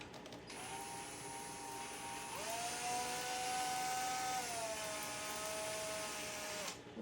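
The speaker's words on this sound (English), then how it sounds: "Let's try to drill through that elevator again." A drill bores through a styrofoam glider elevator, giving a steady, faint whine that shifts pitch partway through and holds before cutting off.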